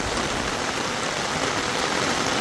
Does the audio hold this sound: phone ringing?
no